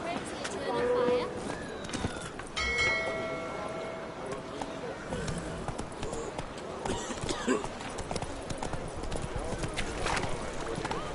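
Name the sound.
horse galloping hooves in video game The Witcher 3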